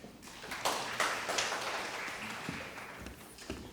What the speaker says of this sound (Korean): 우리 안희철 변호사를 박수로 맞아주시기 바랍니다.